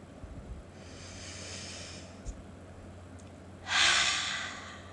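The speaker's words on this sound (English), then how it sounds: "Let's take a deep breath in together" A yoga class closing a restorative session draws a slow deep breath in together, a soft airy inhale followed by a louder, fuller exhale near the end, gentle and unvoiced.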